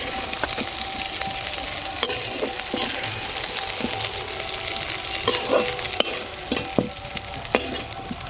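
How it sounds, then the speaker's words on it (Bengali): Young jackfruit fries in oil with a continuous close sizzle while a utensil scrapes and taps against the pan in irregular strokes throughout. No one speaks. "ইঁচড় ভাজা হয়ে গেছে, এবার নামিয়ে নেব।"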